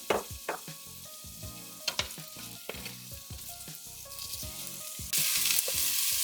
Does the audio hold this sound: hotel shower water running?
no